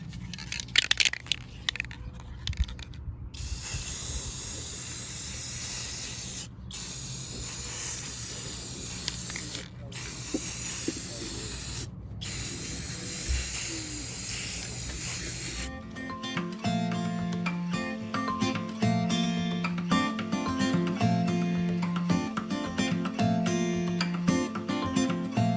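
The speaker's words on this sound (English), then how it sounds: "we're just going to cover all of our coasters with our clear matte spray" Clear matte acrylic spray hisses from an aerosol can over craft coasters outdoors, steady spraying broken by brief pauses, with a person talking during the later part.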